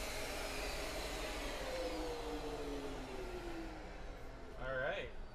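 A bandsaw slices through bent lamination pieces with a steady, loud whining drone, its pitch slowly sliding as the cut goes on, ending in a brief rising squeal.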